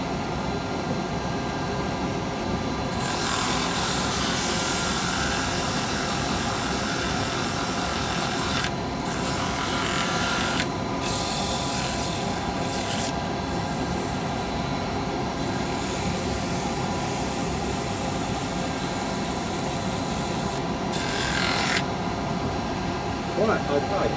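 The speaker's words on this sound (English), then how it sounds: "I heard that, dust extractor." A dust extractor roars continuously in a woodturning workshop, a steady broadband rushing of air heard close and constant, while people talk over it.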